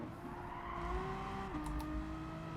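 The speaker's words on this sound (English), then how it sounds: "This car sounds good. I like these old Renault Megane trophies." A Renault Megane Trophy racing car engine in the video game Gran Turismo 7 revs high and steady, pitch dipping briefly as it shifts, with faint tire squeal in the background.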